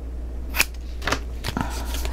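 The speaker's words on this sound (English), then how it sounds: "Let's give this a little cut." A few crisp snips of scissors cut through paper for a Dinosaur Kingdom mini album, three short close cuts spaced over a steady background hum.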